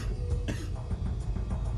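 One man coughs a few times, rough throaty bursts close to the microphone over a low background hum.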